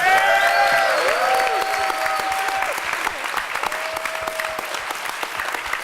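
An audience at a 1997 hacker conference closing ceremony bursts into loud, sustained applause for Emmanuel Goldstein, with a voice over the clapping at the start before the crowd continues clapping steadily.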